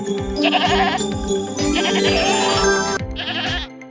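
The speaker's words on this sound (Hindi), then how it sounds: "यह तो बकरी के चिल्लाने की आवाज है" A goat bleats loudly and repeatedly, a wavering, nasal cry in three long bursts close by.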